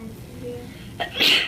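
A single person sneezes once, a short sharp burst near the end after a quiet breathy lead-in, close to the microphone.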